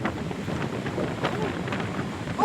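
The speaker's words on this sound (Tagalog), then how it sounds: "It's so windy." Gusty wind in Tagaytay, Philippines buffets the microphone in a steady low rumble, with faint voices in the background.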